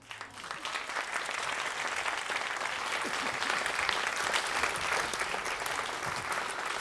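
An audience at an education technology event gives steady, sustained applause, many hands clapping together at moderate distance, even and continuous without any talk over it.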